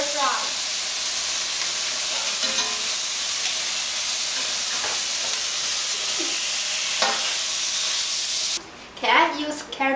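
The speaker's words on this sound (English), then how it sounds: "Then put in some bean sprouts and stir fry." Bean sprouts stir-fry in a hot pan with a loud, steady sizzling hiss and occasional scrapes of the spatula. A voice speaks briefly near the end.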